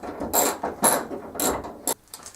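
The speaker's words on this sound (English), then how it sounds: "So we're going to remove these last few bolts." Ratchet wrench backing out the last bolt of a Ford Focus tailgate, four rapid bursts of metallic clicking in a quick rhythm, close and crisp with no talking.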